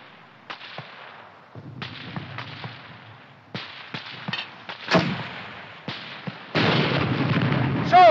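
Mortar and battlefield fire in a 1951 war film, a series of sharp cracks and booming bursts at irregular intervals, ending with a louder sustained blast.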